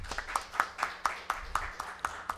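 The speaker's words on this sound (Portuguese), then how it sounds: "Uma salva de palmas, por gentileza." An audience at a formal ceremony marking ten years of an anti-corruption law claps in a room, with a steady rhythmic patter of hands at moderate volume.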